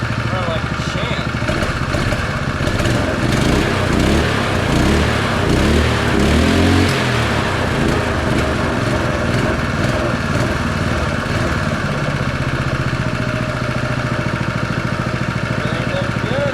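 A refreshed, once-seized Honda GX200 small engine idles steadily up close, its loud, continuous putter holding an even rhythm throughout.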